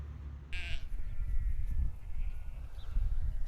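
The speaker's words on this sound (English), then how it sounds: "there's a full grown mature sheep, and there's a lamb behind it there" A grown sheep on a farm gives one short bleat near the start, then a loud low rumble of wind or handling noise carries on outdoors.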